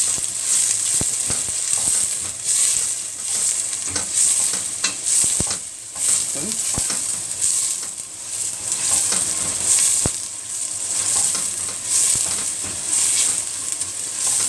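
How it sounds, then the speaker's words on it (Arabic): Onion sautéing in a hot pan for an Egyptian black-eyed bean and meat stew, a continuous close sizzle and hiss broken by repeated scraping stirs and utensil clicks, with no voices. "دي بقى اشوح الايه، اشوح البصلة بتاعتي اهي"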